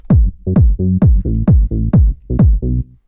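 Punchy kick drum hits land in a steady pulse alongside a bouncy sawtooth synth bass line, loud and up front with no voices.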